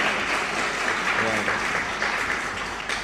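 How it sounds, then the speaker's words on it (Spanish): An audience applauds at the opening of a lecture class, a dense steady wash of clapping from many hands that fills the room at even loudness, with a voice briefly audible underneath. "Un aplauso, por favor, para comenzar la clase."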